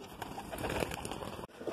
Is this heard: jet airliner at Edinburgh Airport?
no